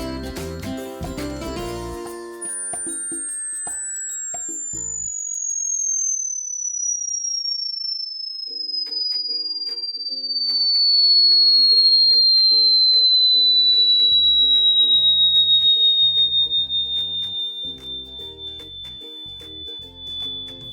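Steady pure high-pitched sine tone sliding slowly downward in pitch and held for many seconds, loud and piercing, with faint music underneath at times.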